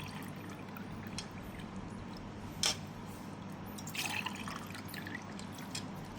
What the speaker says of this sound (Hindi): आप डालो ज़रा इनमें पानी।